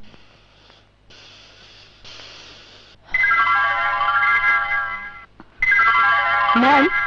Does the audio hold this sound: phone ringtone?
yes